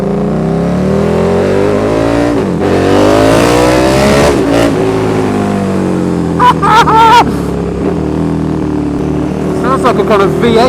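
Loud, continuous exhaust roar from a KTM 1290 Super Duke R motorcycle with an aftermarket exhaust, droning steadily with rising and falling engine pitch, then sharp revs near the end.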